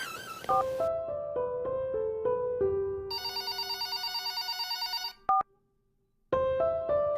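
A phone ringtone plays a stepped electronic melody, breaks into a rapid trilling ring, pauses briefly, then the melody starts again. No one speaks.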